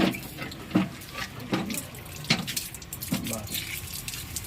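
Tulsi (holy basil) leaves rinsed under a running tap, a soft steady splash of water with a few sharper drips and knocks, while a person talks over it.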